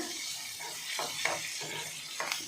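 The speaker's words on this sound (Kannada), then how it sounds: "ಈರುಳ್ಳಿ ಚೆನ್ನಾಗಿ ಕಲರೆಲ್ಲ ಚೇಂಜ್ ಆಗಬೇಕು ಅಲ್ಲಿ ತನಕ ನಾನು ಫ್ರೈ ಮಾಡ್ಕೊತೀನಿ" Onions frying for sambar hiss with a steady close sizzle, broken by several short scraping stirs of a spatula against the pan.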